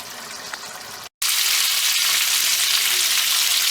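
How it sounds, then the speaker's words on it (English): Sliced peppers frying in a little coconut oil for a Malabar curry, a steady loud broadband sizzle that fills the pan after a brief silence and continues without pause, no talking over it. "just fry them off in a little bit of coconut oil"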